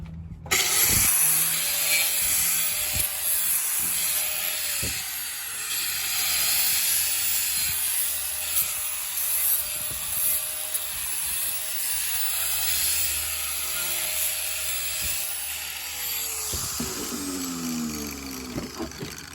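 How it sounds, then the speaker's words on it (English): A grinder with a flap wheel smooths the rough end of a metal piece, producing a loud, steady abrasive hiss with a sustained whine for nearly twenty seconds, close by. "But the flap wheel on the grinder takes care of it real quick."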